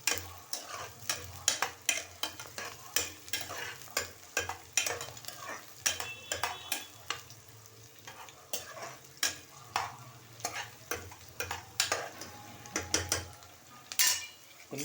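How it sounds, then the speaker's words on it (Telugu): Onions fry in a pan for chicken curry while a spoon stirs them, making repeated close scraping clinks against the pan at an irregular pace over a soft background sizzle. "కొంచెం రెడ్డిష్ వచ్చే వరకు కలుపుకోవాలి ఆనియన్స్"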